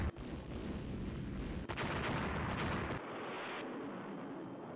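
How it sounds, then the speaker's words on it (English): Battleship guns firing in the naval strategy game Rule the Waves, heard as a heavy, continuous rumble of booming gunfire and blasts that shifts in intensity partway through, loud and close with no voices over it. "My battleship is now shooting that ship."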